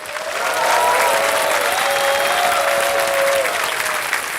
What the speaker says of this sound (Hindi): एक बार जोरदार तालियां फिर से हो जाएं इनके लिए